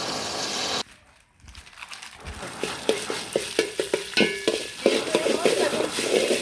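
Spices with bay leaf and cardamom frying in a pan for chicken khichuri, a soft sizzle broken by repeated close scraping stirs that grow busier and louder, with a quiet pause near the start.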